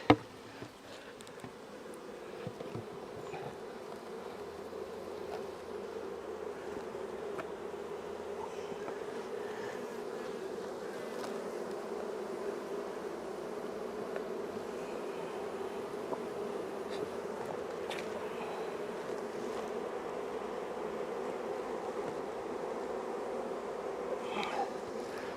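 Honeybees buzz in a steady, dense drone around a broken-down hive, continuous and moderately close for the whole stretch with no talk.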